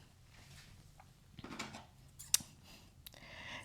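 Scissors snipping into fabric seam edges beside a stitch line, a few quiet scattered clips with one sharper cut, heard close in a hushed room.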